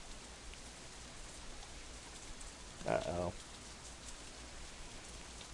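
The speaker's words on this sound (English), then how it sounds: "I hear the first drop of rain land on the back of my hand." Light rain begins in the visual novel Katawa Shoujo, a faint, even hiss running throughout, with a brief spoken exclamation midway.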